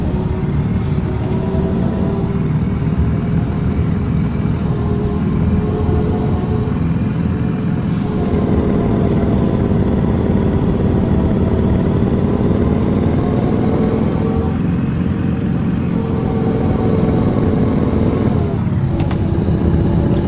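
Steady loud drone of a market truck's engine straining up a hill on a winding, narrow dirt road in Euro Truck Simulator 2, with pitch swells as it labours, no talk.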